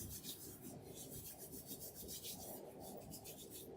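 Hands being scrubbed together for hand hygiene before putting on PPE in a home care setting, a steady, close, fairly quiet rubbing and rasping that continues without pause and with no voices.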